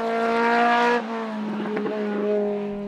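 A Renault 8 Maxi rally car at the Col Saint Pierre hill climb screams past at high revs, its loud harmonic engine note dropping sharply after a second as the driver shifts, then continuing with crackles under lighter throttle.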